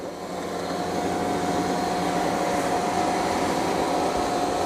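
A Roborock Q Revo robot vacuum runs continuously while vacuuming and mopping, giving a steady whirring motor drone with a faint high whine that holds level throughout.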